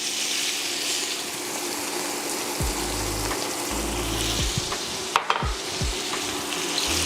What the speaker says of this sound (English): Now we just gonna saute these down and render these down until they become golden brown.